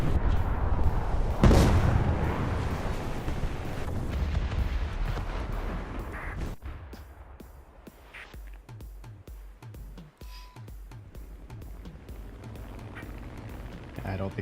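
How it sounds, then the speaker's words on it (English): Torpedo launch in a War Thunder naval battle, a loud muffled boom and rumble early on that fades into lighter clattering and mechanical noise, with a voice talking throughout. "Torpedo, go!"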